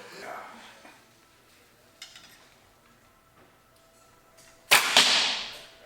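Arrow loosed from an 80-pound compound bow on a mountainside, a sharp loud snap and whoosh near the end, after quiet outdoor ambience with faint clicks and rustles.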